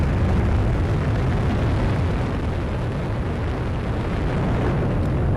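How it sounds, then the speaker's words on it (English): An Atlas V rocket's RD-180 engine roars at liftoff, a dense, continuous, loud rumble filling the whole stretch without letup, with no voices. "the RD-180 engine roars to life. And liftoff for the United Launch Alliance Atlas V rocket"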